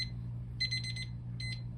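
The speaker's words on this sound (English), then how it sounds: "Sorry, that was my timer." A kitchen timer goes off with a quick burst of high electronic beeps, then a shorter second burst, faint over a steady low hum in the room.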